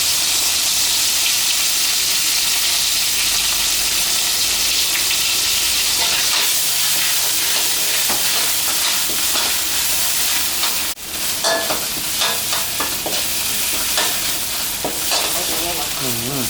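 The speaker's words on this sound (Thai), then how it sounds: "ใส่เครื่องแกงลงไปนะครับผัดให้หอมเลยนะ" Homemade pounded Thai curry paste is stir-fried in oil for a catfish jungle curry, producing a loud, continuous sizzle with repeated spatula scrapes and stirring knocks, nearby and unbroken throughout.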